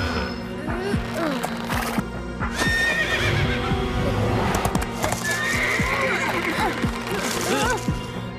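A black horse neighs and whinnies repeatedly with clip-clopping hooves, loud and close, over a steady low hum and some background voices.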